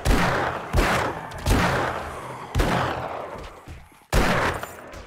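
Magnum revolver shots in 7 Days to Die, four loud separate reports spaced a second or more apart, each with a sharp crack and a long echoing decay.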